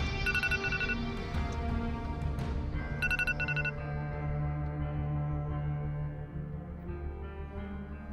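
An unanswered phone call rings indoors, with short repeating bursts of electronic ringtone over a steady tone and a low background hum.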